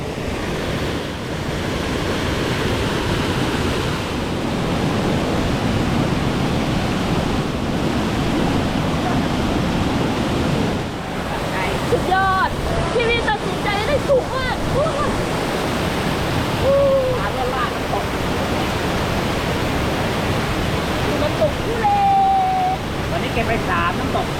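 The Doi Thule twin waterfall pours in a dense, continuous roar that stays loud and unbroken throughout, with faint higher tones briefly rising above the rush.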